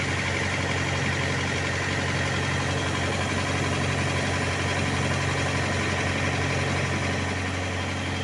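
A car engine idles again after being restarted following a three-minute wait, in a workshop where gauges are being checked; a steady, continuous mid-to-low rumble runs throughout at constant loudness.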